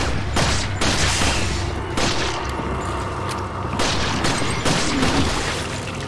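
Gunfire and blasts in the action game Resident Evil 4, a dense run of loud shots and booms over a constant rumbling game soundtrack with no voices.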